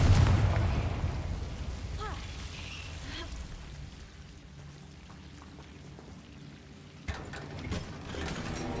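A Confringo spell in the Hogwarts Legacy video game lets off a loud, booming blast at the start that rolls away into a fading rumble, followed by quieter game ambience and a brief sharp click near the end.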